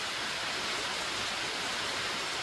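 Sambuyeon waterfall in Cheorwon pours in a steady, dense roar of falling water, continuous and full with no voices.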